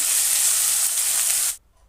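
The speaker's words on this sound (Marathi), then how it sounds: "तेल गरम झाल्यानंतर बारीक चिरलेली मेथी घालायची" Finely chopped fenugreek leaves hit hot oil with a loud, sharp sizzle that hisses for about a second and a half, then cuts off abruptly into near silence.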